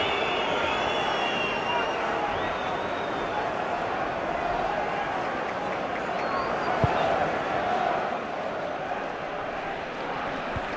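Steady roar of a large football stadium crowd at a Middlesbrough versus Manchester United match, a continuous far-off baying wash with a swell in the middle, running under a commentator's voice.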